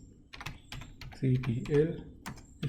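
Keystrokes on a computer keyboard as a command is typed, a run of light quick clicks in uneven bursts, close and fairly quiet, with someone talking over part of it.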